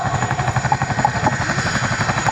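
An RAF Chinook twin-rotor helicopter on the runway at the RAF Cosford Airshow gives off a loud, close, continuous rhythmic blade thump over a heavy turbine drone, steady throughout.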